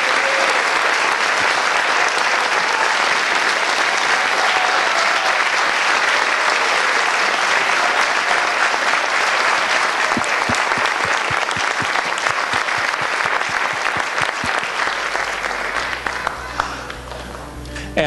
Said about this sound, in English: have everybody in the audience give them one large round of